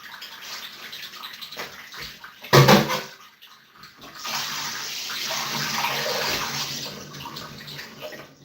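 Water runs from a tap in a steady broadband rush, preceded by a brief louder splash and clatter, then continuing evenly for several seconds.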